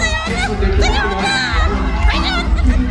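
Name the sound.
crowd shouting and cheering at a Christmas party concert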